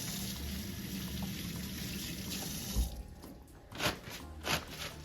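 Water runs steadily from a tap into a sink during hand washing, with a few splashy bumps near the end and no speech.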